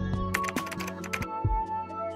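Fingers tap out a short burst of numbers on a computer keyboard, several crisp close keystrokes in quick uneven rhythm, with no talking.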